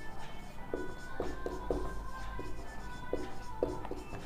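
Pen writing out a Class 10 triangles geometry solution on a page, a series of short scratchy strokes in an irregular rhythm, close and fairly soft over a low background hum.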